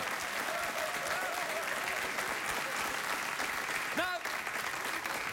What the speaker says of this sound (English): When the audience just applauded like that